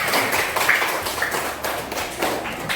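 Classmates clapping for group 2 in a classroom, a brief burst of many hands patting irregularly, moderately loud with no talk over it.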